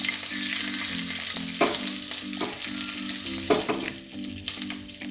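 Dried red chillies and curry leaves sizzling in hot oil for a raw mango curry tempering, a constant close crackling fry with sharp spattering pops and stirring scrapes.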